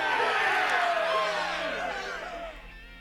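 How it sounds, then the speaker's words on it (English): A large group of people in the video game 428: Shibuya Scramble lets out a hearty cheer, a dense wash of overlapping voices and whoops that stays loud throughout and eases off slightly toward the end. "Susumu's people let out a hearty cheer"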